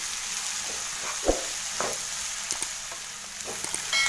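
Crushed ginger, garlic and onions sauté in oil in a pan for a beef curry, a steady close sizzle broken by a few soft stirring scrapes and clicks.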